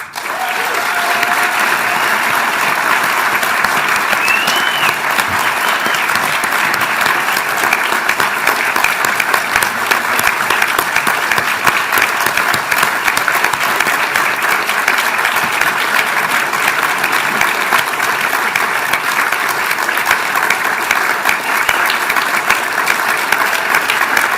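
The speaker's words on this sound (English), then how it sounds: "Please join us in giving a warm round of applause to our 2025 Victorian and National Australian of the Year, Neil Danaher." Sustained, loud audience applause at the Victoria Australian of the Year awards ceremony, a thick, unbroken roar of clapping hands that stays level for over twenty seconds without speech.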